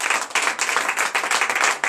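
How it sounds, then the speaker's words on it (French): Applause at a church deliverance prayer night in Bénin, a dense burst of many hands clapping together for about two seconds, loud and close, with no voices over it. "Donnez l'acclamation."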